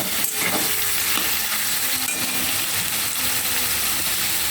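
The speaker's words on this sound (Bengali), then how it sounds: "এবার একটু হলুদ দিয়ে দেবো আর অল্প একটু নুন দিয়ে দেবো। ভালো করে আমি এটাকে ফ্রাই করব।" Chowmein frying in a pan with turmeric and salt added, giving a loud, steady sizzle with stirring and scraping running throughout.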